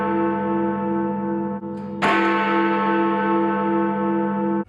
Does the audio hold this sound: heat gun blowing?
no